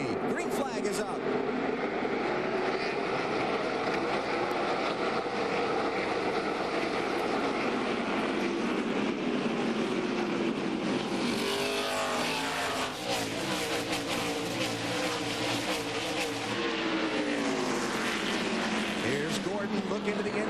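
NASCAR Winston Cup stock cars roar around the Martinsville Speedway half-mile at the green flag of the Old Dominion 500, a loud, dense engine drone with pitch sweeps as the field passes, under steady commentator talk.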